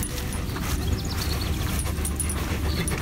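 A pet dog pants steadily and moves about close by during a walk through prairie grassland, its breathing a continuous rough rustle with faint whimpers over a constant outdoor wash.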